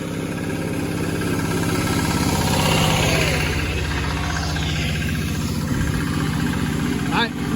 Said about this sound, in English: Got a very loud tractor coming our way